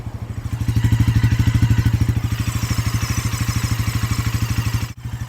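A Bajaj Pulsar NS400 motorcycle engine runs close by with a steady, throbbing idle, its rapid regular pulses briefly interrupted by a short click near the end.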